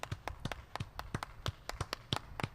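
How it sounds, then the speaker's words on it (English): Applause during a livestream for a stream moderator: about a dozen separate sharp hand claps, close and uneven, spread across a couple of seconds with no voices over them. "here's an applause for you"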